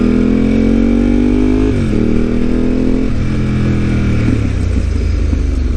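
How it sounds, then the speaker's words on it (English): An Italian V-engine motorcycle with a Termignoni exhaust rides a road in Japan. Its engine drones loud and close, pitch dropping through gear changes, and it breaks into crackling pops toward the end. "Especially with all those pops the Termionis are providing right now."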